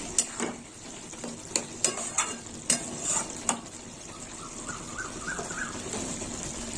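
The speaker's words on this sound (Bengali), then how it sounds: "ভেজে রাখা খোয়া ক্ষীরটা এবার দিয়ে দিলাম একটু নেড়ে ছেড়ে দেবো" Fried khoya kheer is stirred into a sizzling pan with green peas, sharp rhythmic spatula scrapes and taps against the pan over a steady close frying hiss that eases into quieter sizzling, with faint birdsong in the background.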